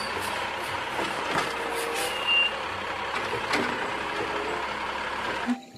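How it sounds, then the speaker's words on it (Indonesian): A garbage truck rumbles steadily while its reversing alarm beeps over the engine noise, at a moderate distance, before the sound cuts off abruptly with no talking. "lihat di sini ada truk sampah teman-teman"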